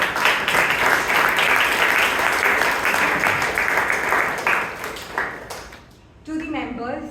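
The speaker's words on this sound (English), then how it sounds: "Let's give our second speaker a huge round of applause once again." Audience applause at a Toastmasters club debate meeting in Bangalore: a dense, steady round of clapping that fades out over several seconds before a voice starts talking.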